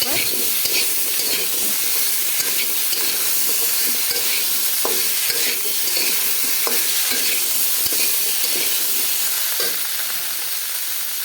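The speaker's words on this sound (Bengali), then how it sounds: "একটু আদা বাটা একটু রসুন বাটা ভালো করে মিশিয়ে নেব" Ginger and garlic paste frying in a pan for a potato and papaya curry, with a steady loud sizzle and a spoon scraping and stirring in repeated strokes throughout, no voices.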